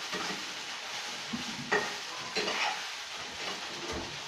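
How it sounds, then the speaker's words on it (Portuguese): Clear slime mixture being stirred, a continuous close wet hiss broken by a few soft knocks of the utensil against the container, with no talking. "eu vou botando e vou mexendo aqui"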